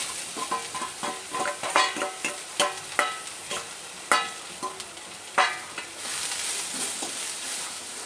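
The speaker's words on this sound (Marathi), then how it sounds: "हा कांदा आपण भाजून घेऊया" Onion roasting in oil in a pan for Puneri misal pav: a steady frying hiss under repeated scraping spoon strokes, with the sizzle swelling louder and more continuous near the end.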